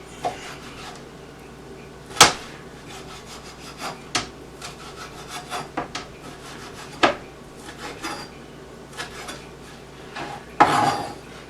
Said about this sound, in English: we're going to chop this up. So just make a slice across it.